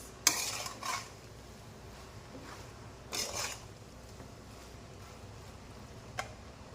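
Spicy Hakka noodles being stirred in a pan, with a few quiet, spaced clinks and scrapes of a utensil against the pan over a faint background.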